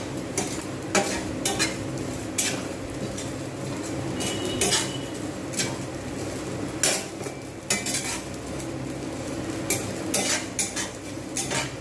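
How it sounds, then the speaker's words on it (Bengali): Washed rice dry-roasting in a pan with no oil or salt, stirred steadily so grains scrape and rattle against the metal in a continuous close rustle, with frequent spoon clinks and no voices. "যেরকমভাবে ভাজবো সমস্ত চালটা ঠিক আমি ওইভাবে ভেজে নেব"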